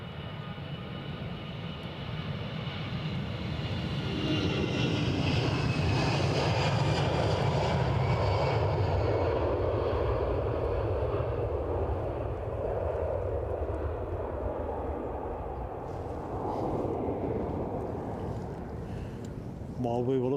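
A British Airways Airbus A320neo jet departs Edinburgh for London Heathrow, its engines a steady, broad roar that swells and holds at a moderate distance for the whole stretch, with a thin rising whine drifting across it.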